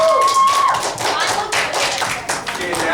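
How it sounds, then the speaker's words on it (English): Classroom applause for a student, a burst of many hands clapping close by, steady and dense for a few seconds, with a voice speaking over it. "Give her a round of applause."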